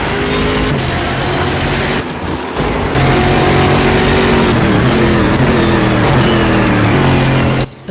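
Race car engine roaring steadily from an onboard camera during a lap at Taruma in the GSC2012 series, loud and continuous, with pitch sweeping up and down through gear changes and briefly dipping around two to three seconds.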